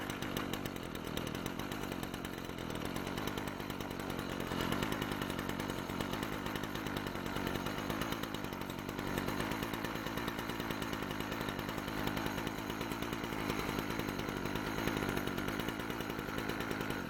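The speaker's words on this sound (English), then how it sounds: "this engine should start up" A two-stroke string trimmer engine runs steadily throughout, a loud, close buzzing drone that holds a constant pace without pauses or revving changes, with no talk over it.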